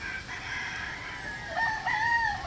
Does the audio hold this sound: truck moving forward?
no